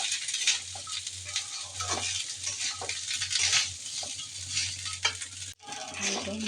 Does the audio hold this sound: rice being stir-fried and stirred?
yes